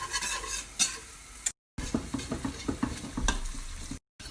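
Whisk beating butter and flour in a pan for parsley sauce, a rapid rhythmic scraping and sizzling that runs continuously with two short breaks, close up and alone.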